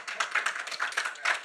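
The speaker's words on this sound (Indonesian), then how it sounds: "Tepuk tangan dulu." An audience bursting into brief, lively applause, a dense patter of many hands clapping together at moderate loudness.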